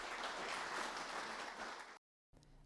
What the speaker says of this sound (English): could I get a round of applause for Kyle Timm, please?